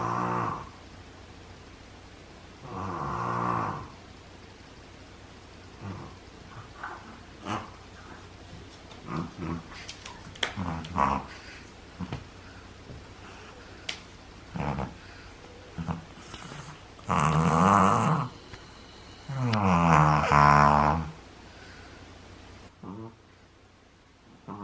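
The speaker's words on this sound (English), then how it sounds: "Not little gentle, cute snores like, oh no, full-blown man snores." Full-blown man snores recorded at 2 o'clock in the morning: loud, rasping nasal snorts come in irregular bursts separated by quieter breathing, with the two longest and loudest snores near the end.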